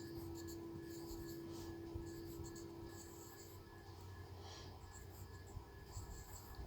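Chalk or marker strokes on a board write out a number in a classroom setting, soft scratchy strokes under a steady faint hum, fairly quiet and close.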